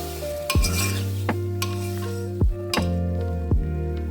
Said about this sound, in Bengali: অল্প গরম হতে কাটা টমেটো দিয়ে দিলাম। এবার আদার টুকরো, রসুন, গোলমরিচ একটু দিয়ে নেড়ে নিলাম।